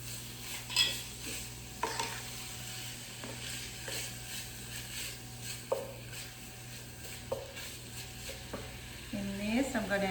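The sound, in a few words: chopped garlic sautéing and stirred in a pan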